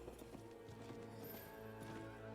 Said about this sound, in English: I want to start sprinting on my horse.